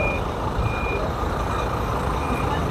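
A tour bus backing in at Balneário Camboriú bus station sounds its reversing alarm, evenly spaced beeps over a steady diesel idle and station rumble.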